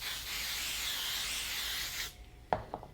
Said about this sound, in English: we're going to take some 505 spray, or any kind of, adhesive spray will do